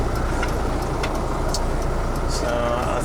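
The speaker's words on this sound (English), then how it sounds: "just enjoying the ride in this old Peterbilt 357." An old Peterbilt 357 truck with air ride suspension cruising down the road, heard from inside the cab as a steady engine drone and road rumble, with faint rattles over the top.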